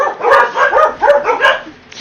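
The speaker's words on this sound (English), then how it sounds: "Excuse my dogs" Dogs bark in a quick series of four or five close, loud barks, with a short yip-like tone to each, fading at the end.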